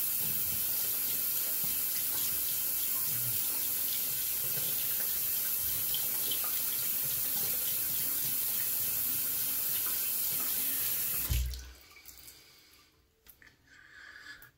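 A shaving brush or razor is rinsed under a running tap, a steady, close rush of water that fills the first eleven seconds, then stops abruptly, leaving faint handling noises.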